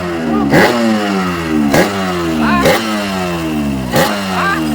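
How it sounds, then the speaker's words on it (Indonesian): A motorcycle engine, one that keeps stalling, revs loudly and close in four repeated rising surges, each climbing in pitch before dropping back, with a rough clattering idle between them and no voices. "Da ieu mah motor teh ngelaju ukut banget."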